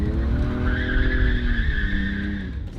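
Car drifting with its tires skidding and squealing loudly and steadily, a sustained high screech over engine noise, close and continuous.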